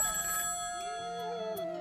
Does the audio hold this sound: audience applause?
no